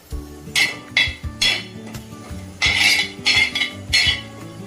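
Spices for pani puri powder being dry-roasted in a pan, with a spoon clinking and scraping against the metal in repeated bright knocks and rattles, close and fairly loud, no talking.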